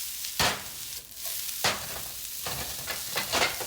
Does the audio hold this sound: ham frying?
yes